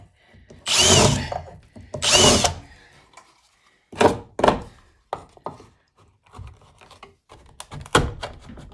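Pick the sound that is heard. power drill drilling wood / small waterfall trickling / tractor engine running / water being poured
power drill drilling wood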